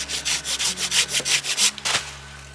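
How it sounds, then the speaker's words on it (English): A hand saw cutting wood outdoors, about a dozen rhythmic rasping strokes in quick succession, close and steady, ending with a final stroke and pause, no talking. "Yeah, this saw works awesome."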